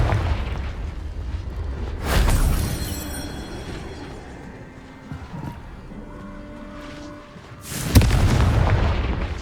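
A Confringo blasting spell in the game Hogwarts Legacy goes off as two loud booming bursts, each with a crackling, shattering tail, separated by quieter ambient game sound.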